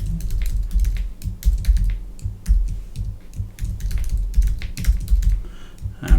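Fingers type a password on a computer keyboard, a close, loud run of quick irregular key clicks in short bursts with brief pauses between, no voices.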